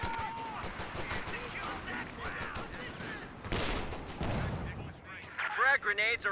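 Pack howitzer artillery and small-arms fire in Company of Heroes 2, repeated sharp blasts and crackling gunfire over battlefield noise, with shouted voices and chatter on top.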